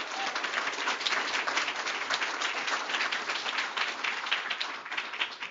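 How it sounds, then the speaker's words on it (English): An audience at a Hispanic Heritage Month celebration gives a steady, dense round of applause, many hands clapping continuously at moderate volume without talk. "So let's give her a round of applause."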